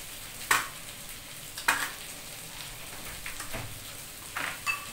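Soybean biryani masala with salt, red chilli and dried coriander being fried in a pan, a steady faint sizzle broken by a few sharp scraping stirs of a spoon against the pan.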